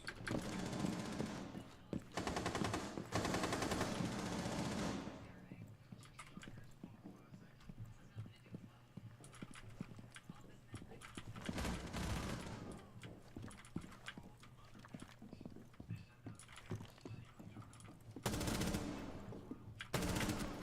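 Gunfire in the Rainbow Six Siege video game, loud bursts of shots in the opening seconds and again near the end, with scattered quieter impacts between and a voice talking over parts of it.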